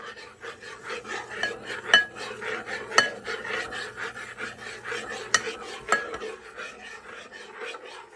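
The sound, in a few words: stirring gelatin mixture with a utensil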